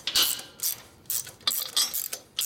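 A socket wrench ratchets on bolts during assembly of a 1936 Harley-Davidson RL 45ci flathead bobber, with close, loud bursts of clicking pawl sounds in several quick separate runs and short pauses between them.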